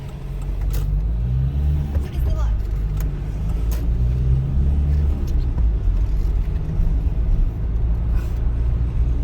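A car engine rumbles and pulls away at a traffic light, with the low drone rising as the vehicle starts moving. Heard from inside the car during a driving exam.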